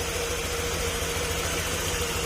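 Honda Click 125 V3 scooter engine idling close by, a steady low hum with an even rapid pulse and no change in speed, suffering overheating and a check engine warning.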